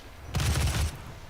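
Heavy assault rifle fire in DOOM, a short, dense burst of rapid shots lasting about half a second, loud and close against a low ambient game background.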